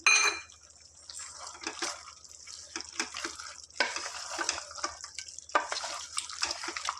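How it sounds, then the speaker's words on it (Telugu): Mutton pieces in curd with chili powder being stirred and fried in a pan, a quiet wet sizzle with soft scraping and stirring sounds coming and going, close up. "ఇప్పుడు దీన్ని చక్కగా ఈ విధంగా కలుపుకోవాలి ఒక పది నిమిషాలు ఈ పెరుగులో ఈ పీసులు అనేది చక్కగా ఇలా ఫ్రై చేస్తూ ఉండాలి"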